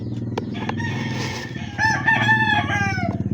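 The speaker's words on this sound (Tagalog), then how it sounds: "Pasensya na sa mga manok, mga sa kapitbahay." A rooster crows nearby, a drawn-out cock-a-doodle-doo, over a steady background of clucking chickens from a neighbor's yard.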